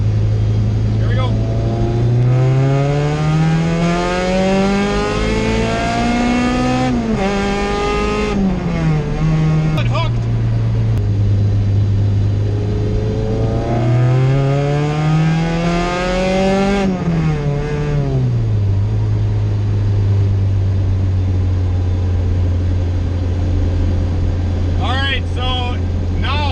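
A car fitted with a Jackson Racing supercharger accelerates hard in third gear on concrete, its engine note rising steeply through repeated loud sweeps with brief dips between, while a voice speaks briefly near the end.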